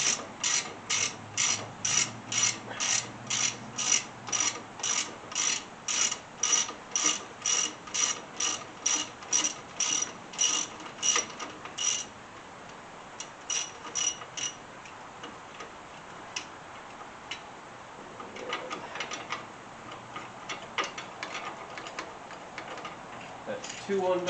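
A ratchet working strut bolts on a 2012 Mustang GT, a rapid run of sharp, even clicks up close, then a pause followed by scattered softer ratcheting and handling noise.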